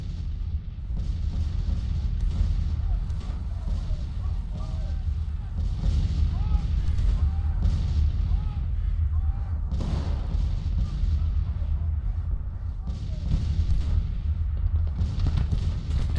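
Artillery fire in the American Civil War strategy game Grand Tactician: The Civil War, a dense continuous rumble of distant booms and thuds layered over battle ambience, with cannon reports overlapping throughout.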